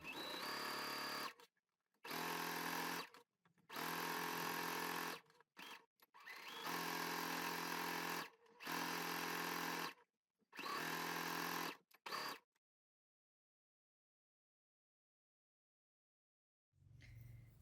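A sewing machine understitches around a blouse neckline in short, fast bursts of close, buzzing stitching separated by brief pauses, then falls silent before a faint low thump at the end.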